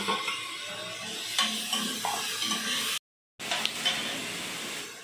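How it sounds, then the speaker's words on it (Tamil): Ginger and garlic sautéing with mint, coriander and tomato in a pan for country chicken biryani, giving a steady close sizzle and hiss with intermittent stirring scrapes, briefly cut to silence midway. "புதினா, கொத்தமல்லி அப்படியே தக்காளி போட்டுக்கலாம். இஞ்சி பூண்டு போட்டு வதக்கிக்கலாம்."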